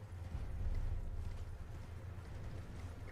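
Horse hooves galloping in the Elden Ring video game, a steady low rhythmic drumming of hoofbeats that runs continuously at moderate level with no voices.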